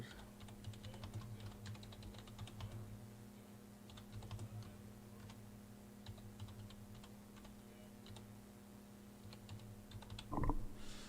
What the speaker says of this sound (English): So we're typing, we're getting a lot of it laid in there